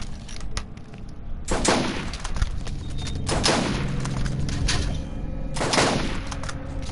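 Bursts of weapon fire in the Borderlands video game, several loud volleys of rapid shots separated by quieter gaps, close and punchy.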